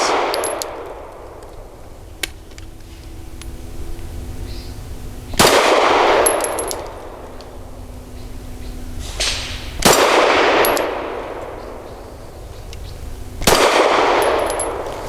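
Shots from an FMK 9C1 G2 pistol ring off a steel spinner target, each crack followed by a bright metallic clang, about four loud strikes spaced several seconds apart over a steady range background.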